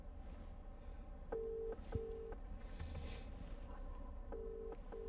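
An outgoing phone call rings through Apple CarPlay in a 2020 Porsche Macan S, a steady electronic double ring tone repeating over the low hum of the cabin.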